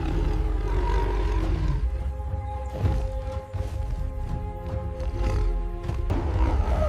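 A deep, drawn-out creature roar rumbles beneath a dense, droning musical backdrop, loud and sustained throughout.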